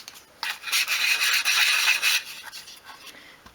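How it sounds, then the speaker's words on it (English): Sandpaper rubs back and forth on a small wooden piece of dollhouse furniture, a few quick close scratchy strokes fading to lighter passes. "then you can sand the remaining pieces"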